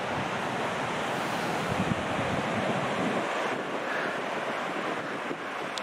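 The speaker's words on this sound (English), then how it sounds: "Aside from the wind, it's a pretty nice day." Wind gusts across Lau Lau Beach in Saipan, buffeting the microphone in a constant roar that blends with crashing surf. It stays loud and unbroken, with no one speaking.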